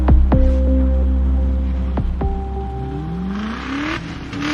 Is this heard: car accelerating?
yes